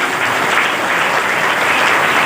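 Congregation at a Nirankari satsang in Yusufpur clapping, a brief dense burst of steady applause with no talk over it.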